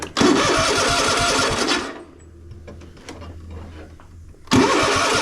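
Zero-turn mower engine cranks hard and loud for about two seconds without firing, goes quiet with faint clicks and rustling, then the starter grinds again at the end.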